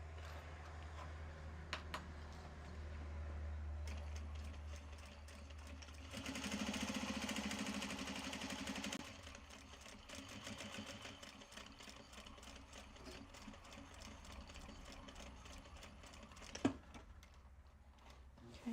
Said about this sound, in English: Now we're going to also stitch the pocket lining while this is still creased